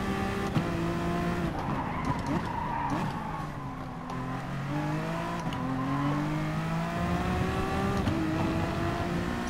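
A Honda NSX Gr.3 race car at Barcelona in GT Sport accelerates hard through the gears, its engine note climbing and dropping at each shift, with tires squealing, loud and continuous.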